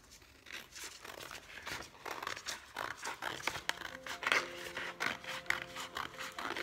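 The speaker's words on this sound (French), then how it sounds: "Moi, j'ai envie de couper quand même une partie du dessin." Scissors cutting through a paper drawing, a run of crisp snips and papery tearing crackles, close and moderately quiet, with no talking.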